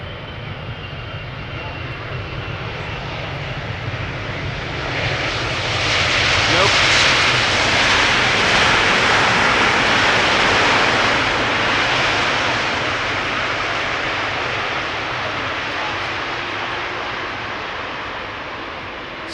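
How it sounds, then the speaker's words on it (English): An Emirates SkyCargo Boeing 777 freighter arrives at Amsterdam Schiphol, its jet roar swelling from a distance to a loud broad rumble overhead, then slowly easing away, with voices talking over it. "here it is, the 777 freighter arriving from Aguadilla, Emirates Sky Cargo"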